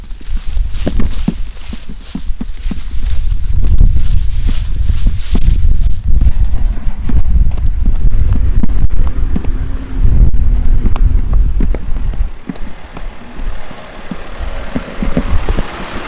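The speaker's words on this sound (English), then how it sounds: "I'm gonna point y'all down and just run through the grass." Footsteps running through grass outdoors in strong wind, with heavy wind buffeting the microphone throughout and the steps thudding steadily underneath.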